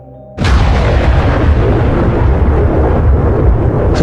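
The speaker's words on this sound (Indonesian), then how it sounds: "sebuah ledakan energi yang dahsyat meledak dari tubuhnya" Sudden loud boom of an energy explosion sound effect bursts in after a faint lead-in, then rolls on as a heavy, sustained rumbling roar.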